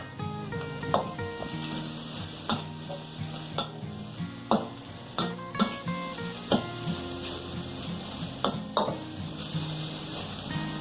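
Sliced scotch bonnet pepper sizzles in a hot pan while a utensil stirs it, steady frying hiss broken by repeated sharp scrapes and clinks against the pan, close and prominent.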